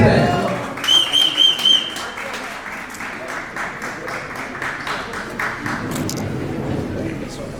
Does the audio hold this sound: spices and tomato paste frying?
no